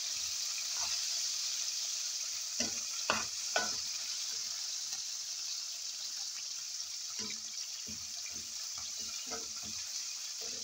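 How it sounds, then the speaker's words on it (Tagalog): Tomato stirred into a pan where garlic is already frying, giving a steady sizzle with a few scraping stir strokes rising over it, close and moderately loud, with no talking. "Now, mix this tomato."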